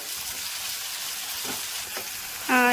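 Tomatoes and ginger frying in a pan for a village-style avarekalu sambar: a steady, close hissing sizzle with a few soft stirring scrapes, ending with a short tonal sound.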